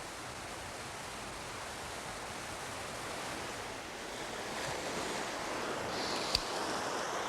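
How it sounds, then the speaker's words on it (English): Ocean waves wash over a sandy shore in a continuous, soft rushing hiss. The surf swells slightly louder toward the end, with a faint brief tap near the close and no speech. "Every wave of every tide stirs the surface of the sand."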